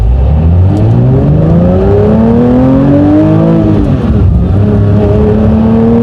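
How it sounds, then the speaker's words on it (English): A Porsche 911 sports car engine revs up loud and close, pitch climbing smoothly through the rev range, briefly dropping, then settling into a steady throaty drone. "The engine sounds good."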